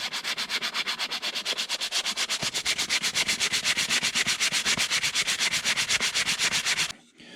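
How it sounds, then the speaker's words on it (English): A birch wood spatula is rubbed with 120-grit sandpaper in fast, even back-and-forth strokes, a close, steady rasping rhythm that stops abruptly near the end. "I've got 120 sandpaper, and then I'll use some 180."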